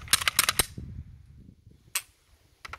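A pistol is drawn, a magazine inserted and the slide racked, giving a quick cluster of sharp metallic clicks and clacks followed by a few separate mechanical snaps, close and without speech.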